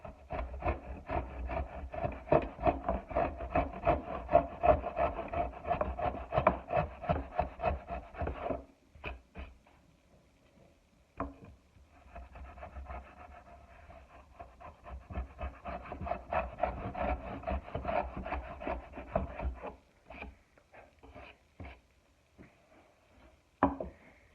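Hand tools scrape and rasp across wood while cutting a dado, close and fairly quiet, in repeated bursts of rubbing strokes with a couple of short pauses and sharp knocks.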